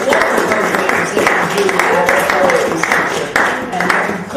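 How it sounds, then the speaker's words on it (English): Audience at a poetry reading in a poetry center applauding, a steady wash of many hands clapping at close range, sustained for several seconds without a break. "let's give a round of applause to the people who really help with all the programs"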